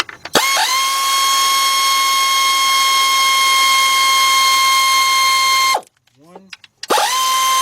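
A ratchet working on 12mm bolts on an engine bracket of a Kia Sorento/Hyundai Santa Fe V6 during a timing belt job: a loud, close, sustained ratchet whir, briefly broken by a short spoken word, then resuming.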